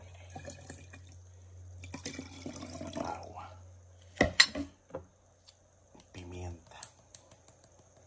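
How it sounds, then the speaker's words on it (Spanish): Water poured into a mixture that already holds vinegar, during a home ritual: short splashing bursts and trickles over a low hum, separated by quieter gaps. "Y voy a añadir agua"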